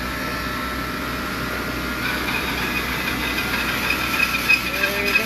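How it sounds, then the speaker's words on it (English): A Dix sander smooths the contoured seat of a wooden chair in a chair-making shop, giving a steady airy hiss and whir that runs without a break and grows a little rougher and louder toward the end. "they will use a Dix sander to smooth out the contour of the seat"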